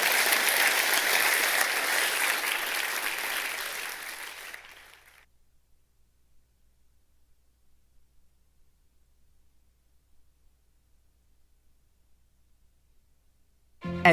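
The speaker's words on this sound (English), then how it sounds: "Let's give Bob a big round of applause." A lecture audience at the Royal Institution in London claps enthusiastically for several seconds, then the applause fades out into near silence, followed by a brief sound at the very end.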